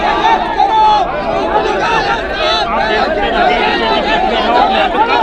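Dense, continuous crowd chatter and hubbub surround a farmer leader at a rally in Sikar, many voices overlapping at steady loudness, with people jostling close by for selfies.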